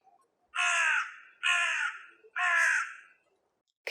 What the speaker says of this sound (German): der Rabe krächzt oder die Krähen krächzen.